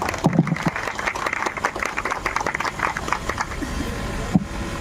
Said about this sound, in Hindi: मैं आप सबका जोरदार तालियों के साथ स्वागत करता हूँ